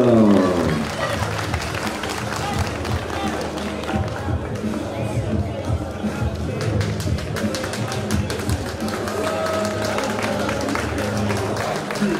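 Applause from the crowd at a savate kickboxing match between rounds, mixed with taps, footsteps and murmuring voices, steady and moderately loud throughout.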